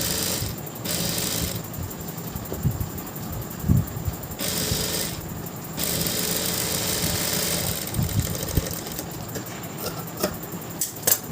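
A sewing machine stitches a blouse waist piece in short, close runs of whirring, clattering mechanism, stopping and starting between runs.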